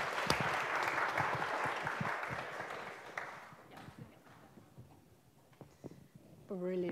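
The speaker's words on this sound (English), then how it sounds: "Yes, give him a clap." Church congregation clapping at a Sunday service with baptisms, a dense wash of applause for the first few seconds that thins and fades, followed by scattered voices and brief talk.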